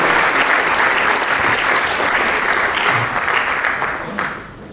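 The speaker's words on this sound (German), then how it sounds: "Das verdient einen riesigen Applaus." Lecture audience at a talk in Dachau breaking into dense, sustained applause, loud and close, holding steady before tapering off slightly at the end.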